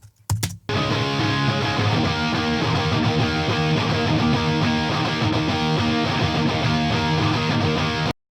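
Two heavily distorted electric guitar tracks from a song play together as a dense, continuous, loud wall of sustained riffing after a brief stuttered start, running unbroken until an abrupt cut.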